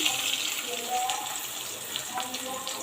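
Water is poured into the spices for a rohu fish curry in a pan, making a soft continuous splashing pour with faint sizzling underneath; quiet and close.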